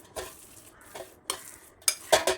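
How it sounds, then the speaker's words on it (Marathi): A spoon stirs kohlrabi bhaji batter in a bowl just after soda is added, giving a few soft, scattered scraping strokes that grow more frequent near the end, with no talking. "आता हे मिक्स करून घ्यायचं आहे सर्व"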